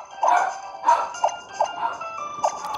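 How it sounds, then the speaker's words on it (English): A dog barks indoors in a series of about six sharp, fairly close barks spaced roughly every half second, with short quiet gaps between them. "Yay, we got a barking dog."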